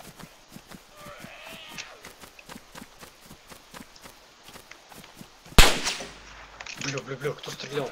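A single sharp, loud gunshot cracks in DayZ after a stretch of steady footsteps, followed by a brief ringing tail and voices talking.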